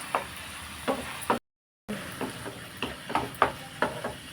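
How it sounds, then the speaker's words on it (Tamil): Drumstick halwa sautéing in ghee gives a soft sizzle with intermittent spoon scrapes against the pan, fairly quiet and close, briefly cutting out partway through. "நல்லா நெய்யில் வதங்கணும்."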